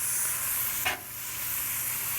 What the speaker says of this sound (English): I'm gonna put a little bit of this butter over it.